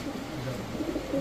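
Grizzle racer pigeons coo softly in a loft, a low, faint burbling under quiet background noise.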